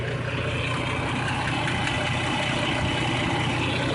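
A steady hot engine of a 1989 Jeep Cherokee with a cracked radiator idles close by, a constant low rumble with broadband noise and no changes in pitch throughout.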